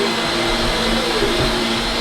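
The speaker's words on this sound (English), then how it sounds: "Gonna do your vacuuming when Gabe's done?" A household vacuum cleaner runs at a steady, loud, continuous whine and rush of air, close by and unbroken, with no voices.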